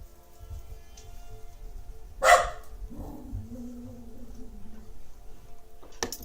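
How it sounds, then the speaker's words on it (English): Indoor dogs let out one sharp bark, then a drawn-out whimpering whine, with a faint low background hum and a small clatter near the end. "I've got dogs doing their thing, being a little disruptive tonight."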